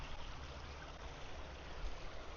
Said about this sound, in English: There's a river.